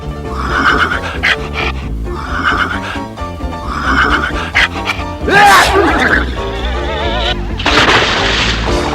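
Repeated loud horse whinnies and snorts in a cartoon, close by, some shrill and wavering, with what may be a voice mixed in.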